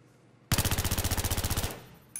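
A rapid burst of automatic gunfire in the Battlefield 3 video game, about sixteen evenly spaced loud shots over roughly a second, followed by a brief fading tail and the start of another shot.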